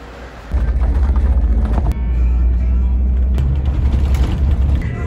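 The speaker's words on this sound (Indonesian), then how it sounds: "Ya, ini dia, bis aku sudah datang." City bus arriving on a winter day in the Netherlands, a loud deep engine rumble that swells in close after a quieter start and holds steady, with brief clunks.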